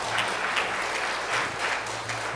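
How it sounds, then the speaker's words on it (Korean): A church congregation claps steadily to welcome a visiting family during a Sunday service, the applause sustained and moderately loud across the room. "박수로 환영하겠습니다"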